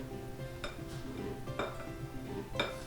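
Flour is mixed into sourdough dinner roll dough in a bowl, with a few soft clinks and scrapes of a utensil against the bowl over quiet handling noise, close and faint.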